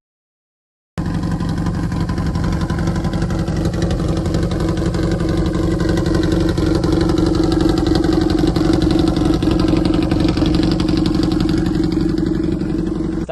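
A BMW R nineT cafe racer motorcycle with an aftermarket exhaust idles close by after a brief silence, a loud, steady, throbbing burble that holds evenly throughout.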